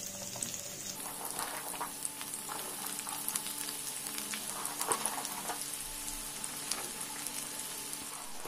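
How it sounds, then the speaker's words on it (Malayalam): Four large chopped onions sizzle steadily in oil in a pan for a prawn biryani gravy, a dense continuous hiss with scattered crackles and occasional stirring clicks, close and even throughout with no talking. "ഈ സെയിം പാനിലേക്ക് തന്നെ നമുക്ക് സവാള ഇട്ട് കൊടുക്കാം, നമ്മുടെ ഗ്രേവി ഉണ്ടാക്കാൻ വേണ്ടിയിട്ടുള്ളത്"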